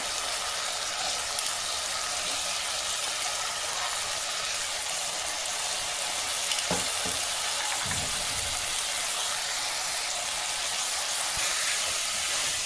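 Pithiki pappu, field beans, frying in oil with onions, a constant loud hiss and sizzle with a few faint knocks partway through, no voices.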